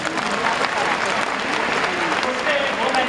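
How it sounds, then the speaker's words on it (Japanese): A baseball stadium crowd cheers and applauds loudly during a player's first-win hero interview, a dense, continuous roar from the stands with talk mixed in. "この大歓声です"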